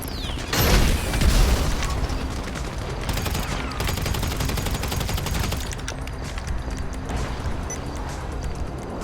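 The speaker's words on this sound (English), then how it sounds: "this guy had been shooting grenades all over the place" Grenade launcher blasts and gunfire crack in an online shooter game, with a loud boom near the start followed by a dense, continuous barrage of shots and mechanical clatter.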